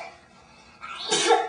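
A single sneeze bursts out after a quiet stretch, loud and close, with a sharp breathy onset building into a forceful release.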